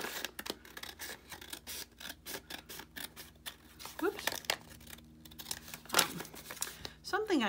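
An envelope cut with scissors to make a junk journal pocket: repeated close snips and crinkling paper handling in irregular bursts, with a few brief tearing sounds.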